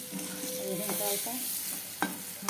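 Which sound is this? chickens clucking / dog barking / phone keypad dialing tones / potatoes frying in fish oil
potatoes frying in fish oil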